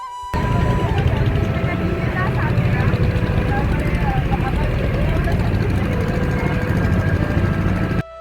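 A river launch engine drones steadily while crossing the Ganges from Nabadwip to Mayapur, a loud, continuous low rumble that holds for several seconds before cutting off, with people talking over it.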